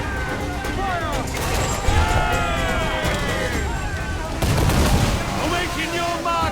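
Ship cannon fire in Assassin's Creed IV Black Flag, heavy booms and rattling volleys crashing amid shouting crew voices and battle din, with a louder burst near the end.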